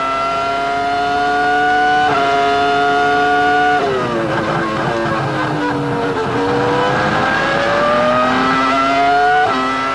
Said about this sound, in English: Michael Schumacher commences his 1st flying lap. This is a simulation qualifying lap.